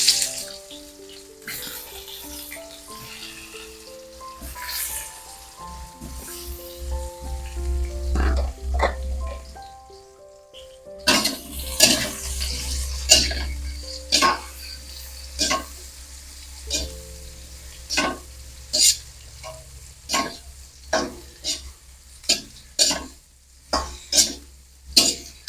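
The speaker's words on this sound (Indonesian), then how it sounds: "Lanjut goreng terongnya." Eggplant fries in oil in a home kitchen, with a steady sizzle and repeated scraping stirs of a spatula in the pan, close and fairly loud, with the strokes falling at a regular rhythm in the second half.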